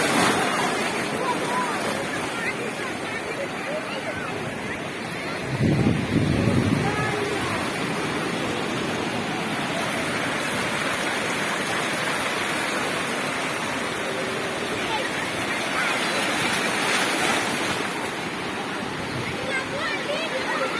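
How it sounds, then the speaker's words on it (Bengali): Surf rolls in at high tide on Digha beach, a steady, full roar of breaking waves and wind that swells briefly louder a few times and never drops to quiet. "আর জোয়ারটাও প্রচুর আছে আজকে"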